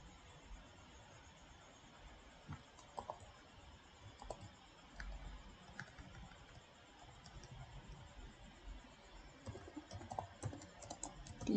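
Someone types a database query on a computer keyboard in a quiet room, with soft, irregular clicks and bursts of keystrokes running steadily throughout.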